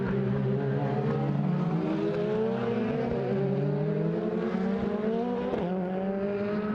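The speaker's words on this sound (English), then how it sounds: "Car's really bouncing and bouncing there." DTM race cars drive at Hockenheim, the engine note droning steadily and rising in pitch as it accelerates, loud and continuous with no talk.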